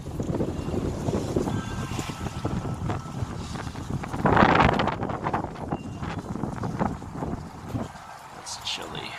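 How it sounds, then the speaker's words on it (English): Wind blows outdoors on a chilly, icy day, rumbling across the microphone in steady gusts, with one stronger gust midway, while a person talks over it. "And the wind is kicking up and I'm barefoot."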